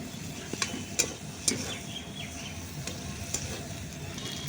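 Boiled mashed potatoes being stirred into a spice mixture in a pan, a soft sizzle under quiet scraping and light clicks of a spatula against the metal, faint and close, no talking.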